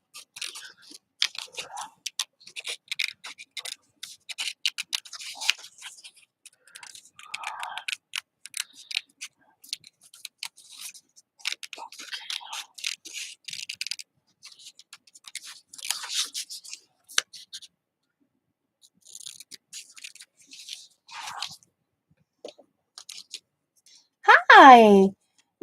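Scissors snip through paper in quick, crisp bursts of cuts with short pauses between, close and fairly loud, while a person talks quietly now and then.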